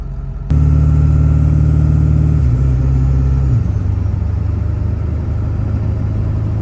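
A car cruising on a smaller highway at about 55 mph, a steady low engine and road rumble with a brief shift in pitch early on, heard from inside the cabin.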